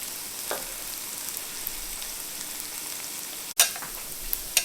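Onions frying in a pan for keto steak fajitas give a steady, even sizzle with faint crackles and one sharp pop near the end, close and moderately quiet with no talking.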